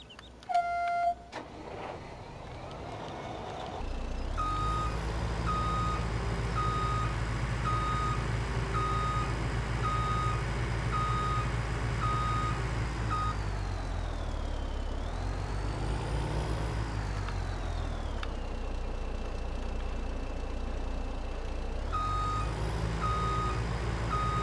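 A TigerCat clambunk skidder in Farming Simulator 2017 reverses with a steady, repeating backup beep over a loud, continuous diesel engine drone that rises and dips as it maneuvers.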